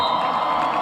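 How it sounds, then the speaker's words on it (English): A crowd at a U-18 football game cheers in a brief, dense swell of many voices, sustained and fairly loud without distinct words. "a big cheer from the crowd"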